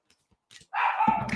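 Dogs in a house let out a sharp, close bark that slides into a drawn-out whining yelp, preceded by a few faint small sounds.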